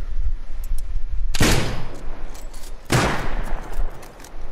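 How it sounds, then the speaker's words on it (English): Two loud, sharp sniper rifle shots crack in the survival game Rust, about a second and a half apart, each followed by a short echoing tail over a background rumble. "They're sniping him. Let's snipe them."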